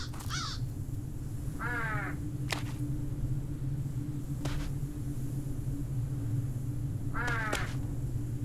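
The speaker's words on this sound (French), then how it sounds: "En premier viennent les corbeaux bruyants." Noisy crows caw outdoors in scattered harsh calls, some of them doubled, moderately close, over a steady low rumble of wind or distant traffic.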